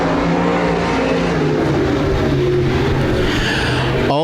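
Stock cars roar in a loud continuous engine drone while sliding through the turns on a speedway oval, with a brief tire squeal near the end.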